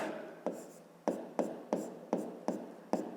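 A pen writes letters on paper during a fifth-grade geometry lesson, about seven quick scratchy strokes in an uneven rhythm, close and quiet, with no talking.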